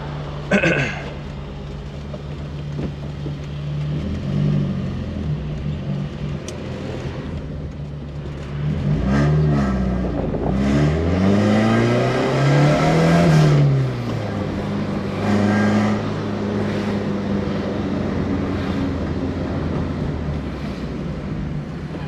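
A rare Mercedes engine revs and pulls hard while being driven, its low, rising and falling drone swelling louder around mid-run with whooshing wind noise, steady and close throughout.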